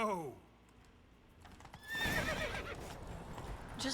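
Hooves clip-clop rapidly while a horse neighs loudly in The Witcher 3, with a rising whinny near the start and more galloping and snorting afterward, game-like ambience around it.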